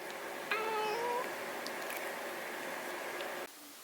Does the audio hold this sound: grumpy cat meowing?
yes